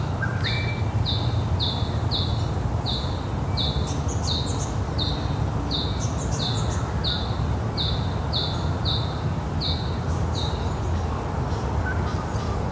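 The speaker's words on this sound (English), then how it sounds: "These birds have a different kind of call that doesn't sound quite so aggressive. They're very melodic," Tasmanian birds sing melodic calls in a tranquil outdoor setting beside an old bus, one bird repeating a bright chirping phrase roughly twice a second throughout, over steady low background noise.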